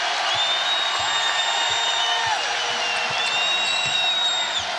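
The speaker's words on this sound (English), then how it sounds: "Crowd trying to help them out." A dense roar of crowd noise fills a basketball arena during free throws at a women's college game, loud and continuous, with whistles and shouts rising over the din and squeaks and thuds beneath.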